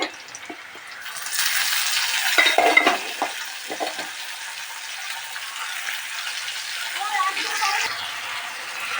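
Onions browning with dried red chillies in a pan for lettuce greens bhaji, stirred steadily; a broad sizzle rises after a second and holds, with scraping spoon clicks early on.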